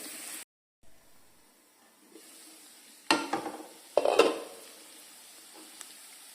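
Malabar chicken curry with slit green chillies cooks in a pan, giving a faint sizzle and a few sharp metallic clinks and scrapes of a spoon or lid against the pan, with quieter stretches between them.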